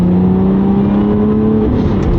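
A 2021 Chevrolet Corvette C8 1LT with about 35,000 miles, exhaust mode off, holds a steady rev near 4,000 RPM, a loud continuous engine drone that stays even for the whole stretch before easing slightly at the end.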